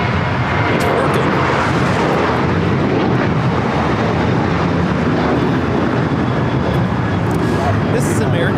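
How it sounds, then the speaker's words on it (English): American Airlines Boeing 737-800 jet taking off at LAX, a loud, steady broadband engine roar that persists throughout with wind buffeting on the microphone, while people talk in the background. "This is American Airlines 1994 taking off to Phoenix on the 737-800."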